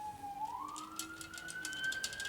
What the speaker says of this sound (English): That's a cop car,